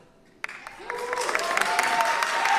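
Audience applause starts abruptly from near silence and swells into dense, sustained clapping with a tonal hum underneath.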